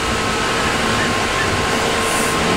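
A Tokyu 8500 series electric train on the Den-en-toshi Line coasts at close to 100 km/h, giving a loud, continuous roar with a steady whine and rumble heard from on board, with no talk over it.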